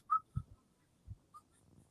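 Short whistled notes, a few brief high tones spaced apart, with soft low thumps between them.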